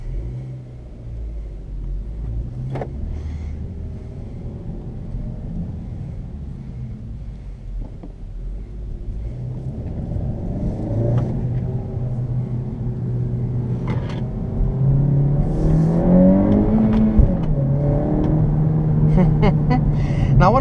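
A 2017 Honda Civic Hatch Sport with a manual gearbox pulls away and drives, its engine rumbling low and rising in pitch as it accelerates through the gears, with steady road and wind noise throughout.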